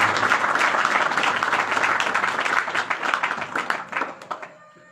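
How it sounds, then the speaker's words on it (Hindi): An audience at a public function applauds loudly, dense clapping that holds strong for several seconds before thinning into scattered claps and fading out. "जोरदार ताली बजाएं।"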